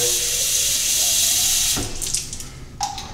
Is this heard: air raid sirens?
no